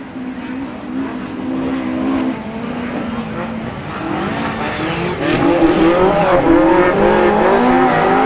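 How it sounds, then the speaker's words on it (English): Autograss race cars on a dirt track at St Neots, engines revving hard and droning continuously as several cars pass, with rising and falling pitch and growing loudness toward the end. "We've got CA285 and then the SC226 car of Richard Green there in the third position at the moment."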